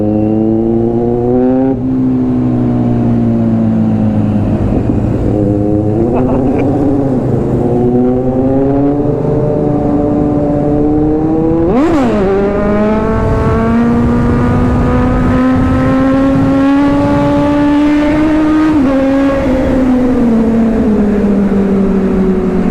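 Kawasaki Z900 superbike ridden at high speed around 160 km/h, a loud sustained engine drone rising and falling with throttle and gear changes, with heavy wind rush throughout.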